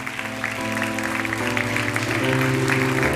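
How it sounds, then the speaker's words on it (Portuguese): A church congregation applauds during a Sunday celebration service, a steady wash of clapping over sustained music tones that continue throughout. "Você pode aplaudir ao Senhor."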